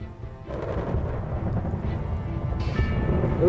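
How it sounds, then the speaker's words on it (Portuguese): Thunder from nearby lightning strikes in a storm that is moving closer, a deep rolling rumble that swells and keeps growling, rising in strength toward the end. "os raios caem cada vez mais perto e são cada vez mais frequentes"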